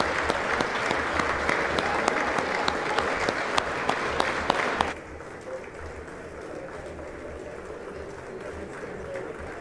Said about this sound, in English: Oh, everybody clap. Clap for us.